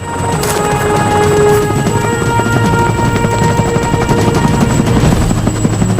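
A loud helicopter close by, its rotor thudding steadily over a continuous engine whine throughout.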